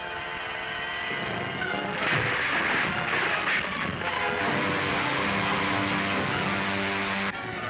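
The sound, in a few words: bombs dropped from a spaceship exploding, 1940 film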